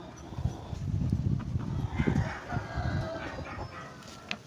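An Asil cross rooster with a beard crows at middle distance, with clucking and barnyard shuffling mixed in over a steady background.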